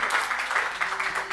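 An audience at a poetry and storytelling performance claps steadily in a dense, continuous wash of applause, fairly loud and close throughout the short moment.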